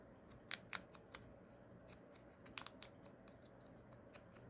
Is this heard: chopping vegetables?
no